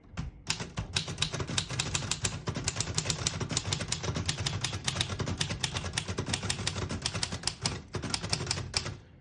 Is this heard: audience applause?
no